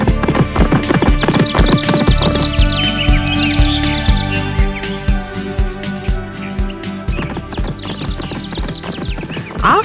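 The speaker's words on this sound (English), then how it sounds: "The horse took off striding." A horse galloping in an animated children's story, a quick, loud, regular clip-clop of hooves throughout, with a short whinny and faint bird chirps in the background.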